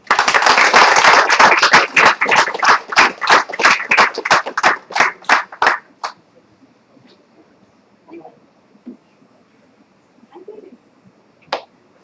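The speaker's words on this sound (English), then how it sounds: "So please do cheer us with a big round of applause as we start our show." Audience clapping at the opening of a comedy show comes as a burst of sharp, fast claps for about six seconds, then stops abruptly and leaves near quiet with only a few faint scattered sounds.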